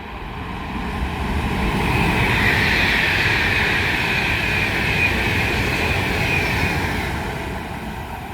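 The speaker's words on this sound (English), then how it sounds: "pass through now is going to be another Avanti West Coast Class 390 Pendolino, going from London Euston to Manchester Piccadilly" An Avanti West Coast Class 390 Pendolino electric train heading from London Euston to Manchester Piccadilly passes through Tring station on the West Coast Main Line, a loud rushing roar that swells, holds, and eases away with a high whine.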